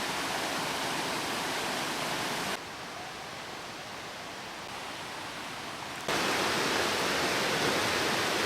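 A river flows steadily beneath a small, slightly rickety footbridge in tropical Far North Queensland, a broad continuous rush of water that dips quieter midway and then swells louder again, with no voices.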